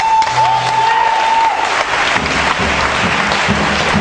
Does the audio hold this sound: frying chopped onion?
no